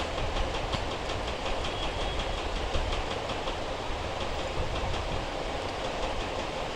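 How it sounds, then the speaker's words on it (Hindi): A sewing machine stitching a Jimmy Choo saree blouse, a steady rapid mechanical clatter running evenly throughout, close and continuous with no voices. "तो चलिए स्टिच कर लेते हैं पहले।"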